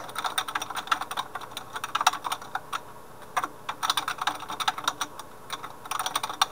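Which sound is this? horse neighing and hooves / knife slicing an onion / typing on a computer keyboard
typing on a computer keyboard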